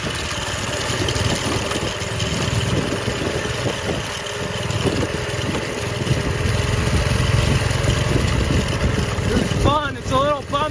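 Sensation mini bike with no suspension riding a bumpy offroad trail, its small engine droning steadily and close throughout, with brief rattling and chirping near the end.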